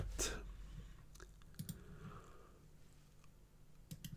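A computer mouse clicks during FreeCAD PartDesign sketching, giving a few faint, sparse ticks over a quiet background hum.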